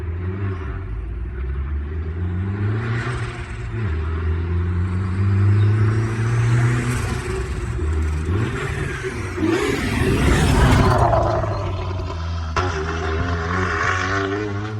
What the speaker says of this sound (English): Well, it started. Doesn't want to hold an idle just yet